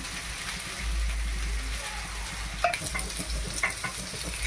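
Homemade paneer frying in oil in a pan, a continuous close sizzle with occasional soft splutters and stirring clinks.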